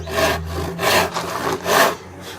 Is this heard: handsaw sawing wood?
yes